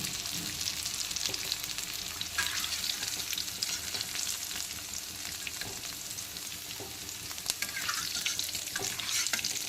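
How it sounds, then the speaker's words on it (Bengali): Potatoes deep-frying in hot oil, a constant crackling sizzle with occasional scrapes and taps of a utensil as pieces are lifted out, steady and close, no talking. "আলুগুলোকেও আমি এখন তেল থেকে তুলে নিচ্ছি।"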